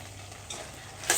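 Black rice sweet pongal with grated coconut is stirred in a kadai, giving a soft, close sizzle and scraping, with a sharper scrape right at the end.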